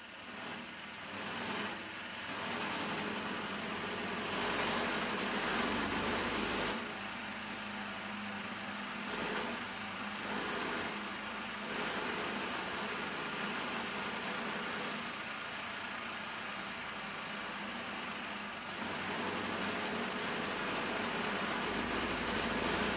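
A dirt kart engine idles on a dyno with a steady, even drone that holds at a constant level, briefly dipping and returning, fairly close, with no talking.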